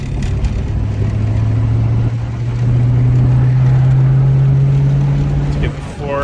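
A 2000 Ford Mustang GT's engine pulls in third gear on a hot day, heard from inside the car as a loud, steady low drone whose pitch rises slowly before easing off.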